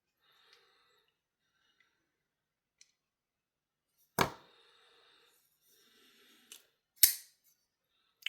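A Kansept Anomaly folding knife is flipped open, giving two sharp metallic snaps with a brief bright ringing tail, preceded by faint small clicks in an otherwise quiet room.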